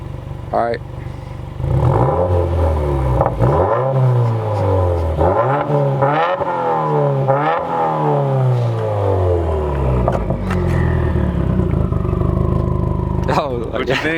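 A 2018 Subaru WRX with its muffler deleted is revved repeatedly, rising and falling in loud swells of raspy exhaust with short pauses between blips, then settles to idle while people talk nearby.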